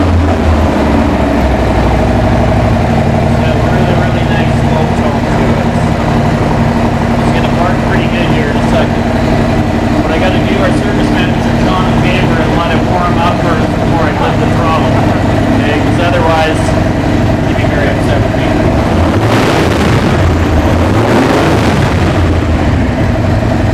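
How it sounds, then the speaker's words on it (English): Harley-Davidson Street Bob motorcycle with CHD Customs work, its engine running loud and close throughout in a steady throbbing rumble, rising near the end as it revs, with voices talking over it. "I love the sound of a Harley."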